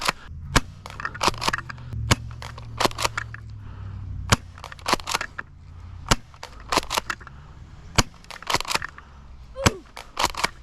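An airsoft shotgun fires BBs at a target 40 feet away, sharp snapping shots coming singly and in quick clusters, loud and close, with faint impacts and handling noise between.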